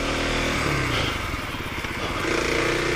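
A 2025 Kawasaki KLX 300 dirt bike engine buzzes and revs unevenly while climbing washed-out ruts on a small hill, loud and close, with a voice partly over it.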